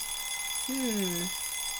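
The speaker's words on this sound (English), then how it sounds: "I was woken up by the noisy alarm clock." An alarm clock in the horror game Nameless: The One Thing You Must Recall gives one short, clear two-tone ring over a faint steady background hum.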